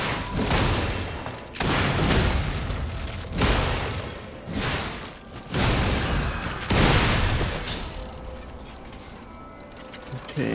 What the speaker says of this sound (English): Oh, explosion attacks.